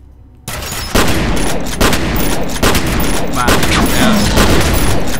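Gunfire in the F.E.A.R. video game comes as dense, loud, continuous bursts of automatic shots. A voice briefly speaks at the end.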